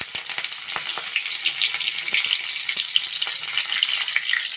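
Curry leaves and mustard seeds crackle and sizzle in hot oil in a pan, making a loud, steady frying hiss with scattered sharp pops throughout, no voices.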